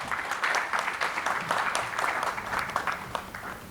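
Audience at a seed trade policy session clapping for a speaker being introduced, a moderate, fairly distant patter of many hands with slight swells in intensity.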